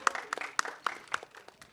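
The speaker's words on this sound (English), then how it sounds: "Can we have a huge round of applause for Bobby sir?" Audience applause at a film press meet, a run of sharp separate claps spaced roughly every quarter second, fairly faint and thin, as from a small group of hands rather than a full roaring crowd.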